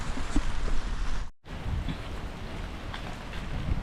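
Steady rain pouring down outdoors in cold Australian weather, a dense continuous hiss of drops hitting surfaces, with one brief near-silent gap partway through before the downpour resumes.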